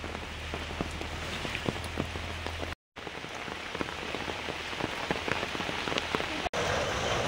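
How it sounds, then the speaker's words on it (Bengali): Steady rain patters on surfaces outdoors at a rural home, an even, continuous hiss dotted with distinct droplet taps, with no talking over it. "বৃষ্টিটা একদম থামছেই না।"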